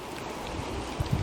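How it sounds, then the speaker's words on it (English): Steady rain pours down on a Range Rover, a dense hiss of droplets with soft trickling and a few heavier drips toward the end, no voices. "It's also chucking it down with rain"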